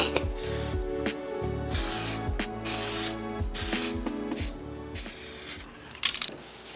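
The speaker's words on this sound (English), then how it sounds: "So now I have to paint this whole thing." Aerosol primer being sprayed over the body panels of a wrecked 2018 BMW 330e, heard as repeated hissing bursts of a wide-pattern rattle can, each a few seconds long with brief pauses, close and steady, then a sharp clunk near the end.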